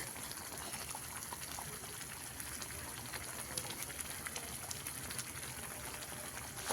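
Masala gravy for an egg curry simmers in a pan with a soft, steady bubbling and hiss that holds at an even, quiet level throughout, with no voices.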